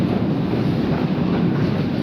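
A very long escalator in the Kyiv metro hums and rumbles steadily, a loud continuous low mechanical drone with an even texture throughout and no voices.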